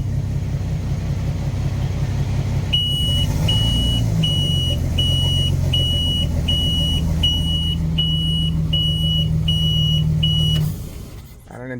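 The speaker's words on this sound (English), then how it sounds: "trying to troubleshoot this alarm" A boat's Volvo Penta 200 V6 engine rumbles while its overheat alarm beeps in a regular, evenly spaced series of short electronic tones for about eight seconds, then the engine cuts off and the rumble drops away.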